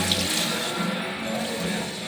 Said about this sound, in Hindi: अब हम 1 गिलास पानी डाल देते हैं इसमें